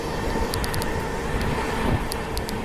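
An Amrit Bharat Express train runs at speed through Bamrauli station without stopping, a loud, steady rumble and rush of wheels and wind, with faint rhythmic high clicks from the track and no talking.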